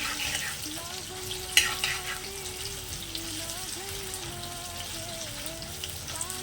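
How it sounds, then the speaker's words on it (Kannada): Baby potatoes fry in hot oil with a steady crackling sizzle and light stirring, while a voice talks over the cooking throughout. "ಆಲೂಗೆಡ್ಡೆನ ಎಣ್ಣೆಲಿ ಚೆನ್ನಾಗಿ ಫ್ರೈ ಮಾಡ್ಕೋಬೇಕು."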